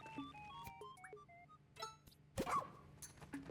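In the Pikmin 4 video game, a dog gives a short bark amid scattered chiming, pinging game effects, all heard faintly.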